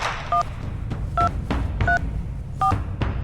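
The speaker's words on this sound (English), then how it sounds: "Who are you dialing?" Telephone keypad dialing tones from a scene in the game Reverse: 1999, a short series of distinct dual-tone beeps punched out one by one at an uneven pace over a low background hum, with no talking.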